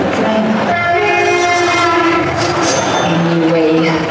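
Train passing with a sustained horn sounding over rolling rail noise and wagon clatter, loud and continuous for about four seconds.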